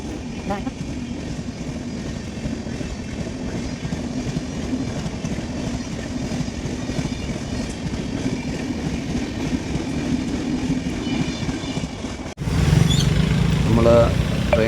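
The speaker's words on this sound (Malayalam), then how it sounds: "അടുത്ത ട്രെയിൻ പാസ് ചെയ്ത് പോകുന്ന ഒരു കാഴ്ചയാണ് കാണുന്നത്" A train rumbles past nearby with a continuous heavy roar and faint rhythmic clatter, the sound shifting abruptly near the end.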